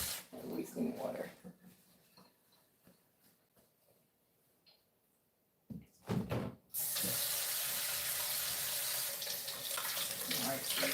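Freshly harvested potatoes from a Greenstalk planter and grow bags get rinsed under a tap; after some quiet handling noises, the faucet bursts on and water runs steadily and strongly to the end.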